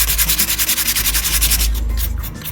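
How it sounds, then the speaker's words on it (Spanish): Thin sandpaper rubs over a carved alebrije figure in quick, even back-and-forth strokes, a loud close rasping rhythm that softens toward the end. "tomar un pedacito de nuestra lija, miren que es delgadita, y vamos a empezar a lijar un poco"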